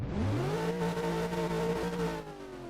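A pace car in a virtual racing game at the L.A. Coliseum circuit drives past before the race start, a steady engine tone rising in pitch then holding, loud and close with no talk.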